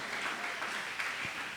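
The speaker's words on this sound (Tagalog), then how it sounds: "Malakas na palakpak para sa ating buhay na Diyos." A church congregation claps loudly in worship, a steady dense wash of applause that runs without a break at moderate level.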